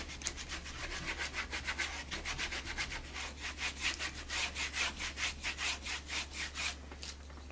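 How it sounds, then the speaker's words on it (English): A brush or cloth dry-rubs paint over the textured, crackled surface of a wooden nutcracker in quick rhythmic back-and-forth strokes, a soft scratchy swishing heard close with a low hum behind and no talking. "And then the dry rubbing catches on everything and enhances it all."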